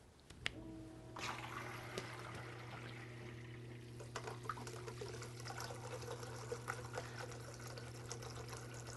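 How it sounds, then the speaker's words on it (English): Water pours and trickles steadily from a water distribution unit during a flow test, a continuous close splashing stream with a low steady hum beneath it and a few small knocks, no voices. "Now we're going to test the water flow."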